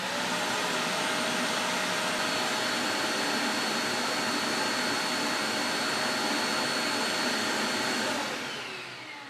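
A shop vacuum runs with a loud, steady high-pitched roar and whine of rushing air, held constant before winding down at the end.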